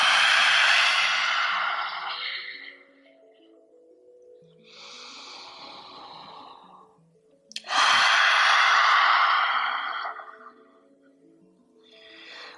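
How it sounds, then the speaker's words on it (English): Forceful pranayama exhales pushed out through the open mouth during a yoga class. Two long, loud, hissing breaths are each followed by a softer breath, and a gentle tonal hum sits underneath. "do so through the mouth, stick out your tongue and open your eyes wide. Let's go, inhale. We are purging through the breath."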